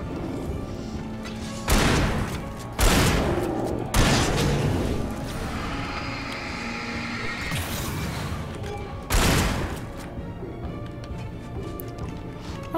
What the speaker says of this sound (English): I'd like my shotgun, please.